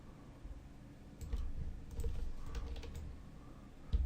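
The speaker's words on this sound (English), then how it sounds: "I'll use the keyboard for minor adjustments" Computer keyboard typing while adjusting a design in Adobe Illustrator: soft, quiet clicks in short irregular bursts, close up, with no talk.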